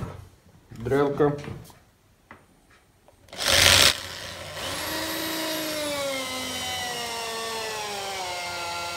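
After a few brief sounds and a short burst of noise, an electric drill whines steadily during final assembly of a table, its motor pitch sliding up and down as it runs.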